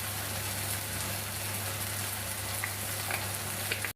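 Spices and turmeric frying in oil with ginger, garlic and onion while meat cooks, a steady close sizzle running evenly throughout with a low hum beneath.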